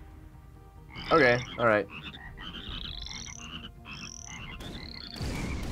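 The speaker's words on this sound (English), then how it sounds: "I just wanted to see the froggies." Frogs croak in the artillery game Shellshock Live, a string of short rising chirpy calls over a low background hum, with a person briefly talking near the start.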